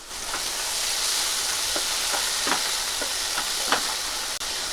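Bottle gourd bhaji with curry leaves and turmeric being stirred in a hot pan, a steady sizzle running throughout with a series of soft spatula scrapes and taps, close by and with no voices.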